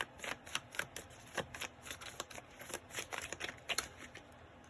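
Animal spirit oracle cards shuffled during a tarot-style reading, a soft, steady papery riffle of quick bursts for several seconds with no talking.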